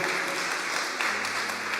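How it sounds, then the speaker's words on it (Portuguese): Congregation clapping together in a church, a dense, steady burst of applause that holds level for a couple of seconds. "Dê uma salva de palmas ao Senhor"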